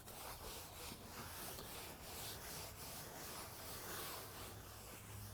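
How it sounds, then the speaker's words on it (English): A clean cotton rag wipes excess Penofin stain from a wooden deck, producing soft, repeated rubbing strokes in a steady back-and-forth rhythm, close and fairly quiet, with no voices. "take a clean cotton rag and you're going to wipe down any of the excess Penofin that hasn't been absorbed by the wood"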